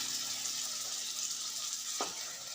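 Water is poured into spices frying in a pan for an Uttar Pradesh-style matar nimona curry. A steady bright sizzle runs throughout, with a brief splash as the water hits the pan near the end, and no talk.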